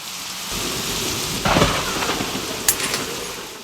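Rain and thunder played as a sound effect in a stage drama: a steady hiss of falling rain with a sudden thunder crack and rumble partway through, plus a sharper clap near the end, with no voices.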